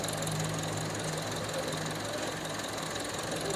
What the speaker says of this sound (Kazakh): Мотору ровно иштеп турат.